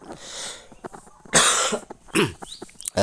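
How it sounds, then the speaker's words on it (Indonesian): A person coughs close by in a few sharp, loud bursts separated by short pauses, with quiet breathing between them in an otherwise calm indoor setting. "Mohon maaf saya sedikit batuk."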